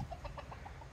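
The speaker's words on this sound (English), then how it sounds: "That's a rooster." Soft, rapid clucking from a rooster nearby, a handful of short bursts in quick succession against a faint background.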